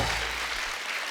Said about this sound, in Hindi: जोरदार तालियां टाइगर और श्रद्धा के लिए